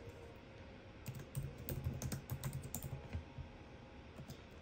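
Keyboard typing while filling in fields in the Hik-Partner PRO app to create a new site, a run of quick, light key clicks in a quiet room with no talking.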